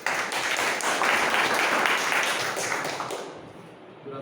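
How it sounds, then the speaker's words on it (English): Applause from a Toastmasters club meeting audience, a sustained wash of many hands clapping at once that fades toward the end, with no talk over it. "Clap, please."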